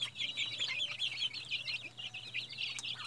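Chickens cluck in a steady, overlapping chatter close by, many birds murmuring at once over a faint low hum, with no voices.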